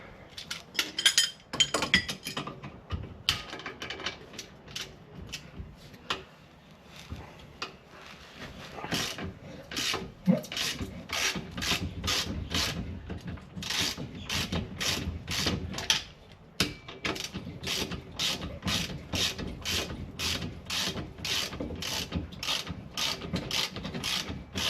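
A nut and washer come off a suspension bolt on an MDC Robson XTT, beginning with some clinks and handling before a long, even run of rapid ratchet clicks that continues with a short pause, close by.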